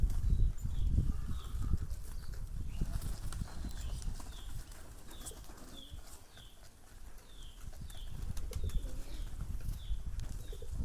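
Pet pigeons cooing in a loft, soft repeated coos recurring throughout over shuffling, fluttering and handling noise close by, with no talk.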